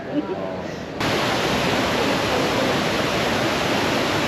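Water splashing steadily in a Rome fountain, a dense, loud rush that steps up sharply after the first second and then holds constant, with faint talk in the background.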